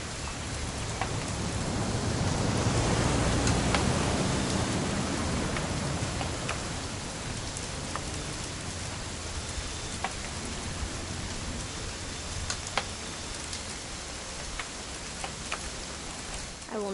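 Steady video-game rain falls as a broad hiss that swells early and then settles, dotted with faint ticking drops.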